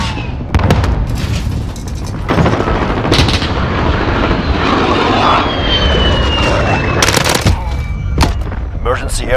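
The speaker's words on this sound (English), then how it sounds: "Enemy VTOL in the AO." Enemy VTOL aircraft in Call of Duty Modern Warfare roaring overhead amid gunfire, loud and continuous with a rising engine whine and sharp bursts of shots and booms.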